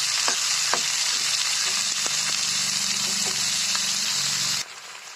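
Chickpeas and snake gourd fry in a pan on a gas stove with a loud, continuous sizzle and some clattering stirring. The sizzle drops sharply to a quieter hiss near the end.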